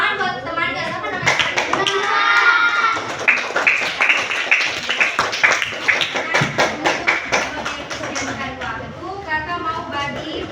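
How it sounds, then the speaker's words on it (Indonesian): Children in a primary classroom clap for a classmate in a long burst of rhythmic, fairly close hand claps, with young voices chattering over and between the claps. "Tepuk tangan buat teman"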